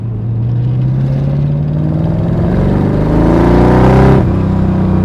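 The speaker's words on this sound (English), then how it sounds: "Got a few natural crackles and pops from the exhaust whenever you lift off." A 1998 Dax AC Cobra replica accelerates hard through the gears, its loud, close engine note rising steadily in pitch before a sharp shift near the end, with no talk over it.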